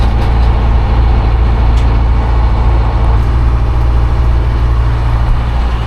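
A JR railway track tamper's engine runs in power drive mode with a loud, close, steady diesel rumble and drone that holds unchanged from start to finish, with no pauses.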